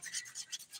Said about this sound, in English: Just using a 180 grit file to smooth this glitter now